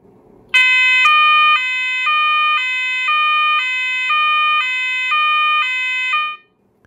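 A PWJ225 fire alarm powered at 24 volts with its volume switch on high blares a loud, harmonic electronic tone that pulses steadily about every half second for roughly six seconds, with no voices.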